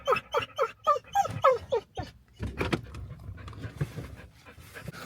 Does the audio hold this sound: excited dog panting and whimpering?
yes